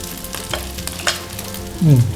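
Fried rice with dried chili stir-fried in a pan as fish sauce goes in, with soft scraping stirs and a steady sizzle that swells into a louder hiss near the end.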